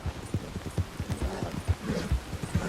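Horse hooves clip-clopping in the Red Dead Redemption 2 video game, a steady run of soft, close thuds in an irregular walking rhythm, heard alone.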